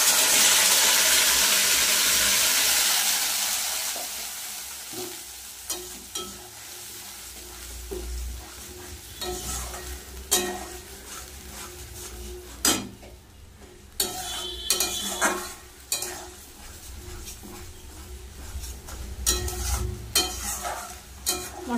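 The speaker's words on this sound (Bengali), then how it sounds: "মশলাটা ভালো করে কষিয়ে নেব" A ground paste of onion, garlic, ginger, green chili and tomato hitting hot oil with a loud initial sizzle, then steady frying broken by repeated scraping and stirring strokes in the pan.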